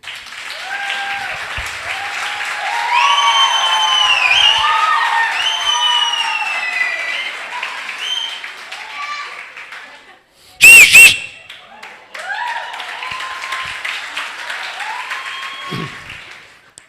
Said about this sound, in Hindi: एक अच्छी ताली प्रभु के लिए।